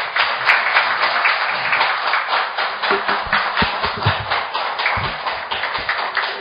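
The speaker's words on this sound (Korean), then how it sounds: "큰 격려와 박수 부탁드리겠습니다." A lecture audience gives sustained, rhythmic clapping to welcome a former provincial governor as speaker, loud and close, with some individual claps standing out sharply.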